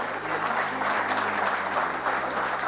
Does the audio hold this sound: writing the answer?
no